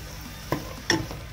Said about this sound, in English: Listen to that sizzle, guys.